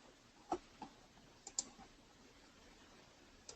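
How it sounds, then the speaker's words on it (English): Quiet computer mouse clicks, a few sharp separate taps spaced irregularly over a faint room hiss, with no voices. "left click and right click"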